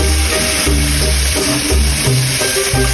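Mung beans sautéing in a hot pan for ginisang munggo, a loud close sizzle of oil with repeated scraping and stirring strokes roughly every half second.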